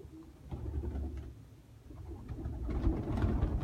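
Pigeons cooing softly nearby, low murmuring calls over faint background rumble that grow slightly louder toward the end.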